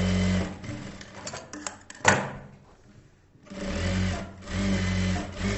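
A tailoring sewing machine stitches a folded blouse hook strip in two close, humming runs, with a pause of handling clicks and a sharp tap between them.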